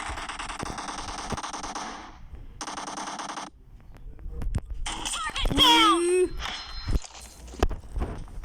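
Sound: gunshots in a video game

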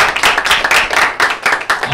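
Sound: audience clapping for Jesus Christ

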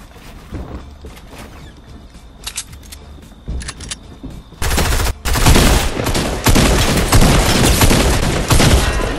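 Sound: gunshots in the video game Fortnite

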